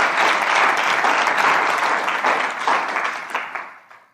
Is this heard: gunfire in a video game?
no